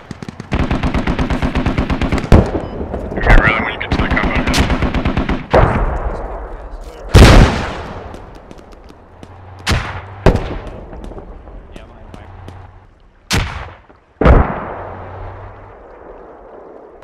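Mortar strikes and gunfire in a tactical multiplayer squad video game: a run of rapid automatic bursts, then several sharp, loud booming impacts spaced a few seconds apart, each trailing off, with brief voices in between.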